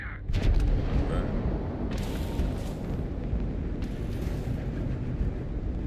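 Enemy gunfire in Starfield, a loud opening blast and then a rumbling string of shots and impacts under heavy combat noise.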